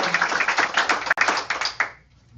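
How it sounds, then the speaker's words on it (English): One person clapping alone after a round of one-minute business pitches, a quick run of close, sharp handclaps with a brief break near the middle, ending abruptly. "I'm going to applaud everyone."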